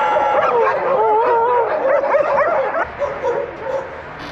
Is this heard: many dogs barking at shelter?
yes